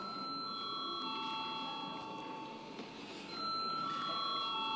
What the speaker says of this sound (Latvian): Lūdzu, zvanu.